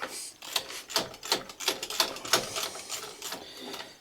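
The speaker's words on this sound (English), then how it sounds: "Go ahead and get some of those bolts loose." Ratchet clicking while loosening bolts on a Chevrolet Trailblazer engine during thermostat housing and alternator removal, a quick series of sharp metallic ticks in bursts, close and fairly loud.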